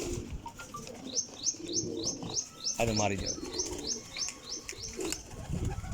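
Pigeons take flight with bursts of flapping wings amid a run of repeated chirping calls, at moderate distance, while a voice speaks briefly over them.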